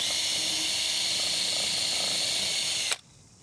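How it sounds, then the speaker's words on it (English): A power drill whines steadily at high speed while pre-drilling a hole in timber for long galvanised screws on a wooden gate build, running loud and close before cutting off abruptly near the end. "I'm just going to pre-drill a hole."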